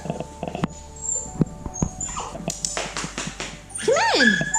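A pet dog whimpers and yips near an off-grid shed doorway as evening falls, with scattered knocks and shuffling, ending in a long rising whine close to the microphone.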